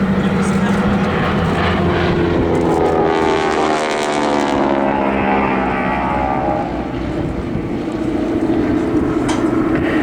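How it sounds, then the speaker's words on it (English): Two Harvard trainer aircraft, including a 1942 Canadian-built AT-16 Harvard 2B, fly in close formation at an air display, their radial engines droning loudly and steadily overhead. "Two aircraft forming up back into close formation"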